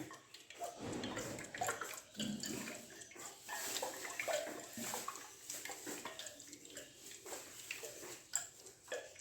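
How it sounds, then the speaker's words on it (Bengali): Oil poured into a wok (kadai), a fluctuating watery splash and gurgle with a few soft knocks and clinks of cookware. "এই কড়াতে তেল দিচ্ছি।"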